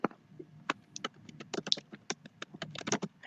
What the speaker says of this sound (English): Hang on, I'm typing something.